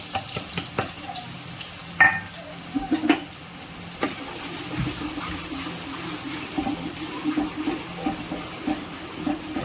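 Onion and curry leaves frying in a pan for bataka pauva, a steady close sizzle with a few louder clatters of stirring and scraping, no one talking.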